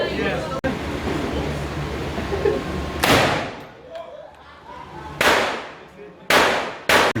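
Sharp, loud gunshots ring out at an indoor shooting range in Los Angeles, three or four separate reports with echoing decay, the later ones closer together, after a stretch of murmured talk and background noise.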